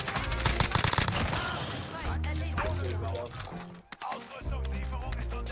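Rapid bursts of automatic gunfire in Call of Duty Warzone crackle loudly and almost continuously, with short gaps between volleys and excited talk mixed in underneath.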